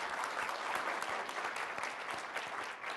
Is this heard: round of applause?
yes